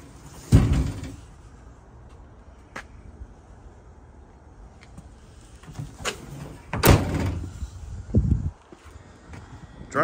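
The door of a 2015 Ram 2500 truck swings and shuts, with two loud, solid thuds several seconds apart amid lighter knocks and rustling, heard close with no speech.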